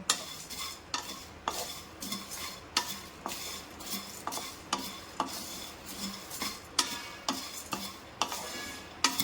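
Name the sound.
stirring ghoti gorom snack while heating it in pan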